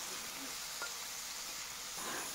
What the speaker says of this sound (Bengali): ওইদিকে ঢেঁড়সটাকে অল্প ভাজা করে নিচ্ছি, অল্প নুন আর হলুদের গুঁড়ো দিয়ে